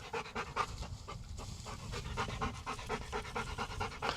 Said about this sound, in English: you probably just saw those dogs running out of there